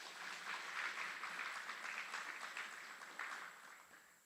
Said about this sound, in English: Please join us in giving a round of applause for these outstanding drill sergeants and instructors.